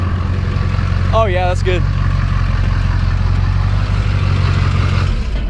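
A low, steady vehicle engine, exhaust set up with a 5-inch MBRP pipe, idles and rumbles as it backs into a ditch; a person speaks briefly over the constant, loud engine drone.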